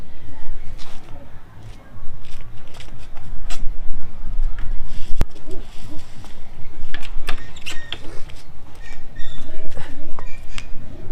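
A male pigeon kept in a cage coos continuously, repeated low throaty calls close by, with some rustling and shuffling in the cage around it.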